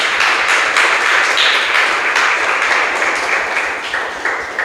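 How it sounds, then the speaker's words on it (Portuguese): Church congregation applauding together, a dense sustained wash of many hands clapping at steady loudness throughout, with no voices standing out. "Dê uma salva de palmas para ele, irmãos."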